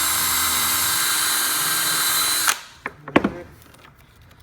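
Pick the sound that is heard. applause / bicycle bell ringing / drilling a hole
drilling a hole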